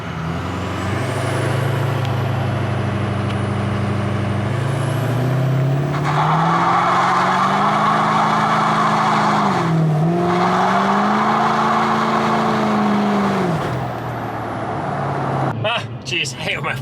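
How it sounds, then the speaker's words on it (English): A tuned GM L5P Duramax pickup accelerates hard, its turbo whistle rising and shifting in pitch over a loud, droning engine, with the tone dipping and climbing again as it pulls before easing off. "the turbo on this truck makes a very interesting sound."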